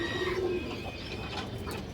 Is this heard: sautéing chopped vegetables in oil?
no